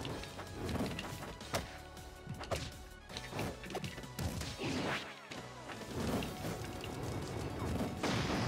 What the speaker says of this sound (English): The classic whiff into smash attack.